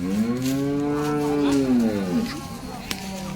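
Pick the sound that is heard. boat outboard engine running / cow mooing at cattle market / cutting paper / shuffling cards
cow mooing at cattle market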